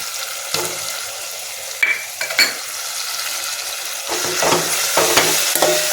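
Cashews, curry leaves and ginger garlic paste fry in a pan over a medium flame, a steady sizzle under repeated scrapes and clinks of a spoon stirring against the metal.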